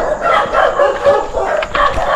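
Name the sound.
dogs barking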